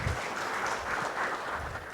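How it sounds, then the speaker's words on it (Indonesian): Congregation clapping during a church service, a dense, steady burst of hand claps filling the space for a couple of seconds without talk. "Yang setuju berikan tepuk tangan meriah buat Tuhan kita."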